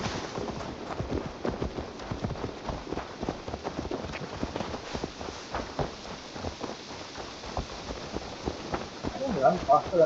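Horse hooves clip-clop at a run in Assassin's Creed Valhalla, a steady rapid patter of galloping steps close by, with game voices talking over parts of it.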